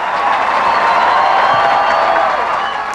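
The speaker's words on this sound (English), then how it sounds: "Inside the ballroom, there was applause." Ballroom crowd at a 1996 election-night gathering breaks into applause, a dense, steady wash of clapping that holds for the whole stretch before easing slightly at the end.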